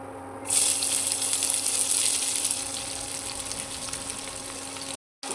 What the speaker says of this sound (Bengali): তেলটা গরম হয়ে গেছে, এবার আমি পেঁয়াজটা দিয়ে দিচ্ছি।